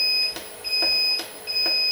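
Alarm beeps from an LF3051+ inverter's buzzer, a repeating high-pitched electronic tone sounding in steady pulses about every 0.8 seconds, loud and close with no talk.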